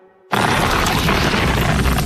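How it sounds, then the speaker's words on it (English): After a brief quiet moment, a loud, harsh rushing and scraping noise bursts in and holds steady: a motorcyclist's denim jeans shredding against pavement in a low-speed crash. "This is the sound of a motorcyclist's jeans being shredded to pieces in a low-speed crash."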